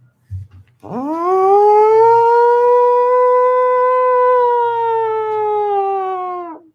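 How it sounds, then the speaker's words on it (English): A tornado siren wails loud and steady, a long rising and falling harmonic tone that swells in after a short knock and holds for several seconds before tapering off. "It was a tornado siren for Xavier."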